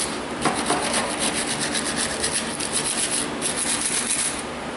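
A metal brush scrubs a corroded battery terminal on a Toyota Corolla, making rapid back-and-forth raspy scratching strokes, close and steady throughout.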